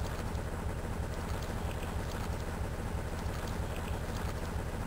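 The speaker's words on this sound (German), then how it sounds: "Ne, das Motorboot." A motorboat engine in Tomb Raider II Remastered gives off a steady, loud broadband drone with a low rumble. It runs unbroken and alone for the whole stretch, with no talk over it.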